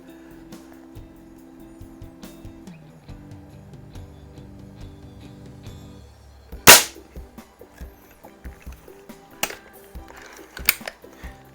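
A Feinwerkbau 124 air rifle fires JSB match pellets: one sharp, loud report near the middle, then a few lighter clicks and ticks over faint steady background hum.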